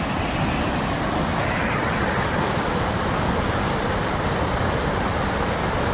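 Kurangani waterfall rushing with a loud, steady, dense roar of falling water that stays unbroken and close throughout, with no voices or other sounds breaking through.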